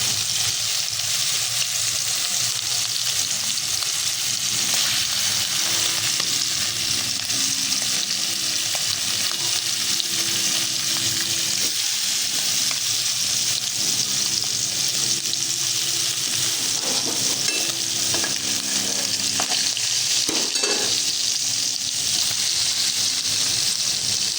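Steady, loud sizzling of hilsa fish frying in hot oil goes on without a break, with occasional soft clinks and scrapes of a utensil.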